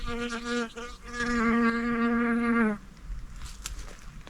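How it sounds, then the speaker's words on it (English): Bees buzz close by around a flowering tree, a loud droning hum that rises and dips as one passes near, then cuts away, leaving quieter outdoor background with faint distant buzzing. "And the bees are absolutely loving it."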